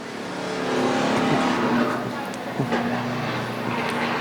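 Bomber race cars roar around a turn at a raceway, engines droning loudly and steadily with a rising pass, while a commentator talks over the noise.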